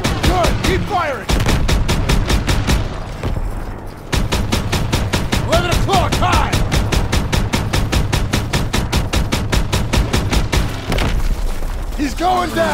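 Sustained rapid gunfire in a Call of Duty: WWII battle, a dense rattling fusillade firing at attacking Stuka dive bombers, loud and continuous across the whole stretch with heavy booms mixed in and voices shouting over it.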